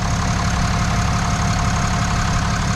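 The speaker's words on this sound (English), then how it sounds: "pop the hood so you can listen to this engine" A 2022 Ram Mega Cab with the Cummins diesel, stock and untuned, idles with its hood up: a steady, even low clatter and rumble that stays constant and close throughout, with no voices.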